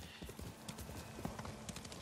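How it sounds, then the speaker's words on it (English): Horse hooves gallop across the ground in the video game Ghost of Tsushima, a steady, rapid clip-clop rhythm that is moderately loud and continuous, with no voices over it. "Get my handy dandy horse and we are off."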